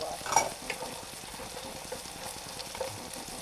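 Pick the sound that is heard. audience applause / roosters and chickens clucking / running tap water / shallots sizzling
shallots sizzling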